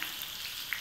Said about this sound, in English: This gets fried very fast because it's through the thin press.